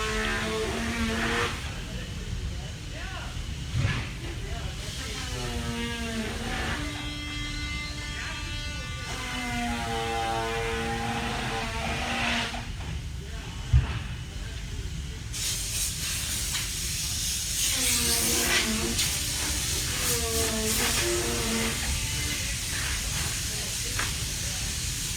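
A kayak hull is formed in a hissing forming machine at the Eddyline factory, with steady hiss and steam-like venting rising louder toward the end, mixed with machinery whine and voices talking nearby.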